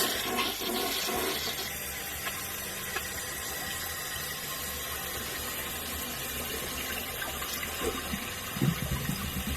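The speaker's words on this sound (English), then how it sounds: "So let's flush." A toilet flushing right after a new flapper is fitted. Water rushes steadily for nearly ten seconds, loud and close, with a little gurgling near the end and no voices.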